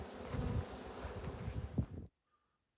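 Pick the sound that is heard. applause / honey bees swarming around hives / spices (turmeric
honey bees swarming around hives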